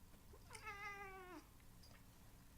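A pet cat gives a single drawn-out meow with a falling pitch at the end, close and clear against a quiet room with faint background hiss.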